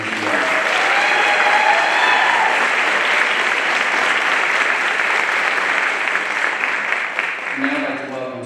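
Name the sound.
audience applause for teachers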